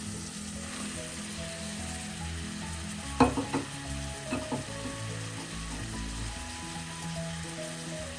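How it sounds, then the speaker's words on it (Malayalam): Chopped cabbage tossed into a hot pan with oil and turmeric for a South Indian thoran, giving a steady sizzle and fry with a few clattering stirs of a spoon midway, close and alone. "അരിഞ്ഞ് വെച്ചിരിക്കുന്ന ക്യാബേജ് ചേർക്കാം"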